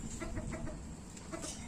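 A rooster in a village setting gives faint, somewhat distant clucking and crowing calls in a short burst, heard alone against a steady low background hum.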